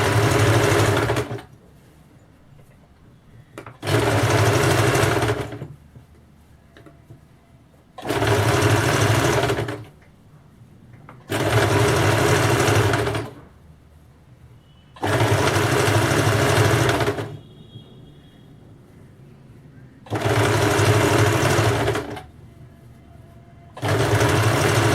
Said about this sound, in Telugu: ఇలా కుట్టుకున్నాక మళ్ళీ డబుల్ స్టిచ్ వేసుకోండి.